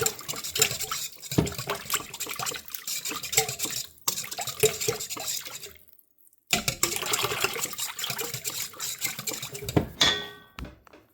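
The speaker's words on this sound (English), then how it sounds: "I'm going to whisk this together." Egg mixture being whisked for lemon poppyseed muffins, with a busy, uneven scraping and clattering in the bowl, a brief pause midway, then more steady whisking ending in a sharp clink.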